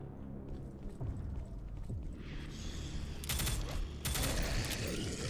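A triple-shot weapon fires in a retro boomer shooter video game. Rapid bursts of crackling gunfire come twice over a rumbling game soundtrack, loud and close, with no voices.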